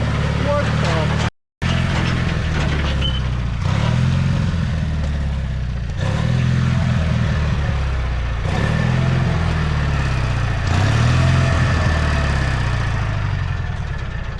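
The neighbor's tractor engine runs steadily and fairly loud, with a low, lumpy idle and periodic swells as the throttle rises and falls every couple of seconds, and a brief dropout near the start. People talk over it.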